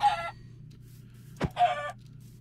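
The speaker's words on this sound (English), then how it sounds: "I'm killing a couple chicken." Minecraft chickens cluck in two short bursts, split by a sharp hit sound as one is killed, over a low steady game hum.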